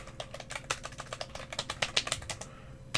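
Quick, irregular keystrokes on a computer keyboard, a close, soft run of clicks that pauses near the end before one last tap.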